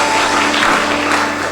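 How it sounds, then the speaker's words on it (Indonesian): A church congregation at an Ascension Day service claps together in a dense, loud, continuous roar of applause filling the room. "Yuk sekali lagi yuk kita kasih tepuk tangan dulu yang meriah buat Tuhan."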